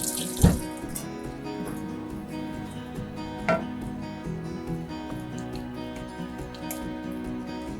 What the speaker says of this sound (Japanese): じゃあ手をちょっときれいに洗ってから